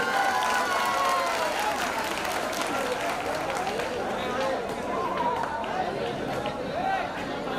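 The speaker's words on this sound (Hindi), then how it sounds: "तालियों के साथ रुखसाना आपा का स्वागत करें" A rally crowd claps to welcome a speaker to the stage, the steady applause mixed with crowd chatter and a voice talking over it throughout.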